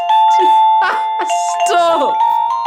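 A doorbell chime rings loudly in repeated tones under excited, overlapping voices reacting to it.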